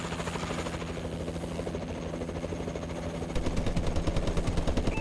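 Warbird aircraft support in Call of Duty: Advanced Warfare hums and throbs as a steady rotor-like drone, then bursts of rapid machine-gun fire join in at a louder level toward the end.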